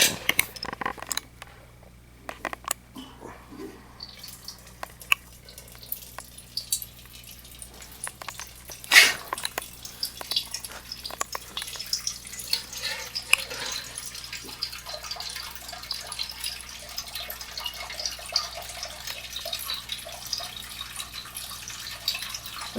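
Moisture-laden liquid drains off a little at a time from the expansion tank of a pellet-fuelled gasifier into a mason jar, a faint steady trickle and drip over a low background hum.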